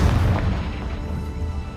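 A Confringo fire spell blast in Hogwarts Legacy bursts with a deep, loud boom that rumbles and fades over a couple of seconds, with no voices over it.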